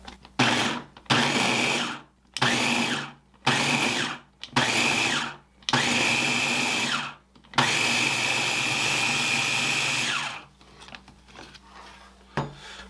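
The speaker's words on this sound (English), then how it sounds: "we're going to zap this again to get it broken up. Just pulse it a little bit." A food processor pulses butter into pie crust dough in a run of loud, close motor bursts, short at first and then longer, separated by brief silences, before fading out near the end.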